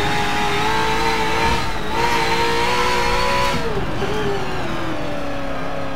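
Group 5 race cars, an Audi 90 IMSA, Nissan 300ZX and Mercury Cougar XR7, in Forza Motorsport: a loud, continuous engine roar with pitch climbing and falling through gear changes, sustained close up for the whole stretch.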